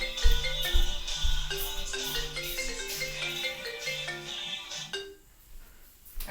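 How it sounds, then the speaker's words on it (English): A cell phone ringtone plays a bright, repeating electronic melody indoors, fairly loud and alone, for several seconds before cutting off abruptly, followed by a short quiet gap. "That was my cell phone, people."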